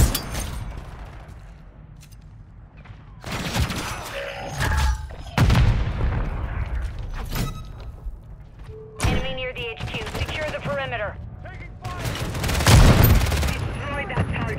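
Call of Duty match with a grenade blast and bursts of gunfire, sharp booms and rattling shots coming in separate clusters between quieter stretches, with mechanical clicks and in-game voice callouts.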